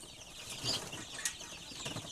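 Newly hatched chicks and hens on a farm give faint, scattered peeps and soft rustling, with a couple of brief high chirps standing out against quiet background noise and no talking.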